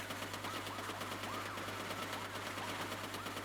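Mounted turret machine gun in the game Uncharted: Golden Abyss fires in a sustained rapid burst, dense steady rattle throughout under a low constant hum, no speech.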